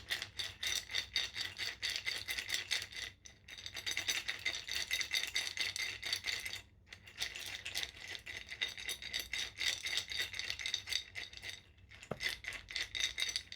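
A capped glass jar holding a little soju for rinsing is shaken gently, giving a continuous close rattling and sloshing clatter in three long bursts separated by short pauses.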